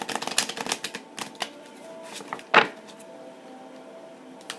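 Oracle cards are shuffled by hand, giving a string of crisp papery riffles and flicks close to the microphone, with one sharper slap midway and quieter handling after.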